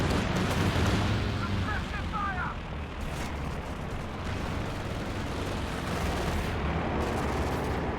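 Dense, continuous rumble of tank gun rounds and explosions hitting a T-34 in Company of Heroes 2, a steady wall of booming impacts layered into constant battle noise.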